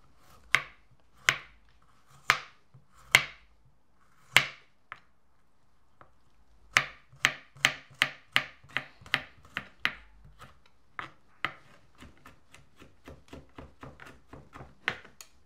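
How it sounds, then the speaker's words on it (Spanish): Garlic being chopped into small pieces with a knife on a cutting board while making a Mexican shrimp broth, in sharp knife strikes: a few spaced blows, then a quicker run of steady cuts that grow softer toward the end. "voy a picar mi ajo también en pedazos pequeños también"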